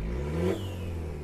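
A 2.5-litre pickup truck engine blips once under throttle, quickly rising in pitch and falling back within a second over a steady mechanical hum, close and fairly quiet.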